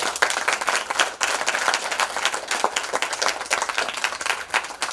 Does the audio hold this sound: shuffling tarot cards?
no